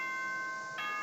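A bright electronic doorbell chime from the Danganronpa video game, a single clear ringing ding-dong tone that shifts pitch partway through, heard alone.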